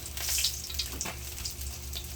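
Steady oily sizzling and crackling of fish frying in oil in a pan, continuous and close, with no voices.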